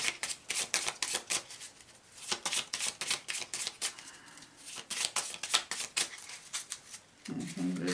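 A deck of playing cards being shuffled for a card draw, with repeated rapid riffling bursts in a steady rhythm, fairly close, ending in a brief lower rustle.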